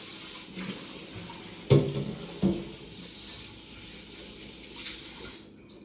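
A kitchen tap runs water into a sink while cleaning up during brine preparation, a steady moderate stream with a couple of sharp clanks of dishes partway through and no talking.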